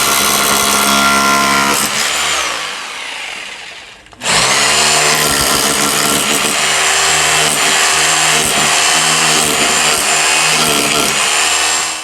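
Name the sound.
rotary hammer drill hammering back and forth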